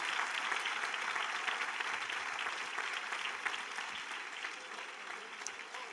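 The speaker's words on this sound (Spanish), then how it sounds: "Un aplauso al Señor." A church congregation applauds in dense, continuous clapping that holds steady for several seconds, heard at a moderate distance with a faint crowd murmur underneath.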